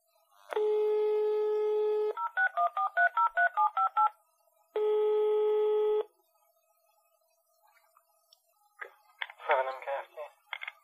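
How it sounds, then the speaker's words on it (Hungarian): A phone line gives a steady tone, then a quick run of dialing beeps, then a second steady tone, before a voice answers faintly on the line. "Most megpróbáljuk felhívni a mesterlövész termék támogatását."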